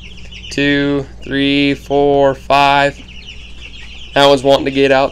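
Young chickens in a poultry farm's brooder room cluck and squawk in loud, close bursts, several calls separated by short pauses, with a person counting and speaking quietly among them.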